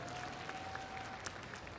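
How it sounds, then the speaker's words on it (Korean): An audience applauds at a Final Fantasy XIV fan festival costume contest, a steady wash of clapping that continues throughout, with a few sharper claps standing out. "박수 부탁드립니다."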